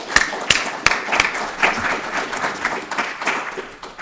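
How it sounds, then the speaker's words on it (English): An audience at a lecture event's opening remarks applauds, starting with a few sharp claps that quickly swell into steady clapping for several seconds. "I want to make sure we give Jennifer a quick round of applause."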